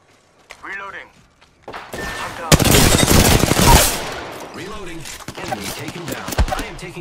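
Automatic weapons fire in rapid bursts during an Apex Legends battle. Dense, loud rattling peaks midway, then breaks into shorter volleys and thuds, with game character voice lines speaking over and between the shots.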